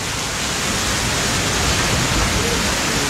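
Heavy monsoon rain pours down over a street in Una, a steady, loud, dense hiss of downpour that holds unbroken throughout.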